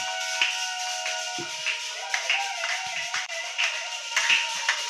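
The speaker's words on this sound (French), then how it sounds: "dès qu'ils se tiennent debout, acclamons pour la gloire de notre Seigneur Jésus" Church congregation applauding together for the pastors, a steady wash of clapping hands with scattered louder claps over a sustained organ-like tone, no talk.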